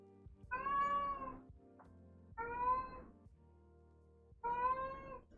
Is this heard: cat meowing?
yes